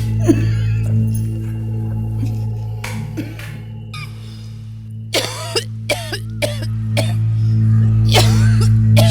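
A series of dry, hacking coughs, several short bursts in quick succession near the end, over a steady low hum.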